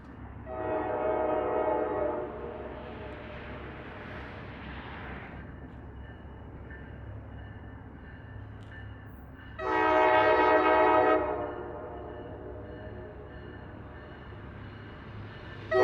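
A CSX track geometry train, a self-propelled inspection car, rolls past with two loud horn blasts, the first near the start and the second around ten seconds in, over a steady low rumble of wheels on rail.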